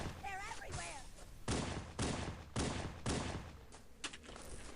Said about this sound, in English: you want to take them out with your pistol like I'm doing here.